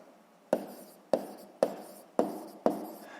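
Pen writing out an expression while solving a sixth-grade math exercise: five sharp, evenly spaced strokes, each a quick scratch that fades, close and quiet with no voices.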